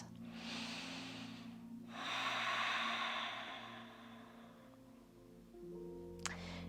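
Long, slow breaths drawn in and let out during a yoga hip-opener stretch, airy and close, swelling and fading in two extended waves, with a faint click near the end.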